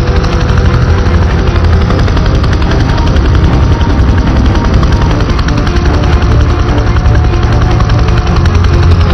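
A helicopter in Prototype 2 descending to land on a helipad, its loud, steady rotor roar and chopping thrum filling the scene without a break.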